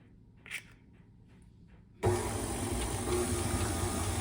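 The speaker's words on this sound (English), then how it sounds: "I like to incorporate them on low setting on the KitchenAid mixer." A KitchenAid stand mixer on its low setting mixes eggs into chocolate chip cookie batter. After a quiet stretch with a faint tap, a steady, fairly loud motor whir starts abruptly and holds at an even level to the end.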